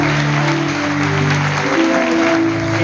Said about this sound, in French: Applaudissez le président.